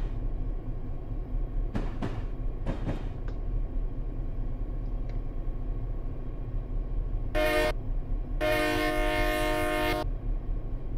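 A commuter train on the Peninsula Corridor in Train Simulator 2018 rumbles steadily, with a few sharp clanks early on, then sounds its horn in one short blast followed by a longer loud blast near the end.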